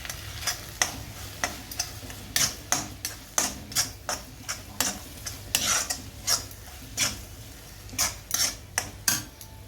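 Tomatoes frying in a pan while a spoon stirs them, with a steady rhythm of sharp clicks and scrapes against the metal over a soft background sizzle.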